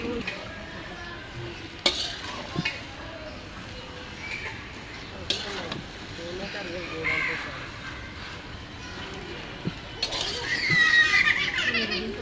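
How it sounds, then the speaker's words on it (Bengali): Greens being stir-fried with fish and spices in a pan, a steady low sizzle with scraping stir strokes, a few sharp clinks and crows cawing faintly in the background outdoors. "এখন শাকটাকে ভালো করে মাছের সাথে কষাই দিবে"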